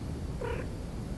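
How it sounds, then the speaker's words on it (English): A pet cat named Princess gives a single brief, soft meow close by, alone over a quiet background hum. "that was my cat"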